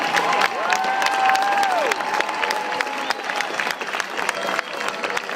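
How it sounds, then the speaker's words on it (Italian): Applause from an audience greeting the candidates at a new mayor's victory speech, steady clapping across the whole stretch with crowd noise, a few voices and whistles rising over it. "Facciamo un complimento, un grande applauso a tutti quanti."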